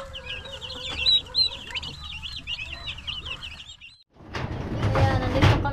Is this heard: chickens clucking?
yes